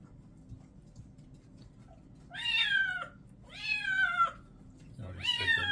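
A wet kitten meows three times after a bath, each call loud, drawn-out and plaintive, spaced about a second apart over soft background noise.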